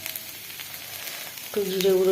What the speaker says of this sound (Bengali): ডিমটাকে ভালো করে ভাজা হয়ে গেছে, এবার ভাতটা দিয়ে দেবো